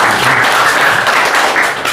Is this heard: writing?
no